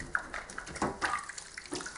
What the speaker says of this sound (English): I'm going to take you out and refresh the water in the sink